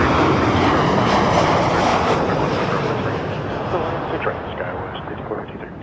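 A WestJet airliner at Toronto Pearson Airport gives off a steady, broad jet roar that slowly fades and thins, with a voice talking over it.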